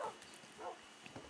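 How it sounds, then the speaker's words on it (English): Tamed dogs in modded Minecraft give a few faint, short yips and whimpers at a low level, spread across a brief moment with no speech over them. "Dogs, come over here."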